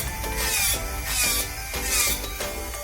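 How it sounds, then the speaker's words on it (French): An electric nail sander removes gel nail polish, giving a close, gritty whirring rasp that swells and fades in a regular rhythm as the bit passes over the nail in strokes. "moi, je vous conseille à la ponceuse quand vous êtes déjà habitué."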